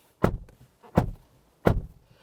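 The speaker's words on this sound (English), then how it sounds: "Here's our door slam." A 2024 Hyundai Kona's car door slams shut three times in a row, each a sharp close thud with brief silence between, alone and without talk.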